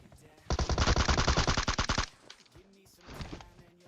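Suppressed M762 assault rifle in PUBG Mobile firing one rapid burst of about fifteen muffled, evenly spaced shots, then a brief pause and a quieter second burst, close and loud with no speech.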